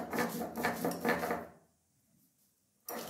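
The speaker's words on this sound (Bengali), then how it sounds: "এখন পোস্তটা খুব মিহি করে আমি শিলে বেটে নিচ্ছি।" Poppy seeds ground very fine on a flat Bengali grinding stone (shil) for Birbhum-style lau posto: close, rhythmic rubbing and scraping strokes for about a second and a half, a short quiet pause, then another stroke begins.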